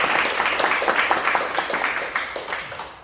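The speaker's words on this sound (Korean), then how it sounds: "그럼 한 번 박수를 좀 더." Studio audience at a health talk show for cancer patients applauding steadily for about three seconds, a dense wash of moderately loud clapping that tapers slightly toward the end.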